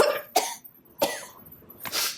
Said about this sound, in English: That cough will die with its master, I think.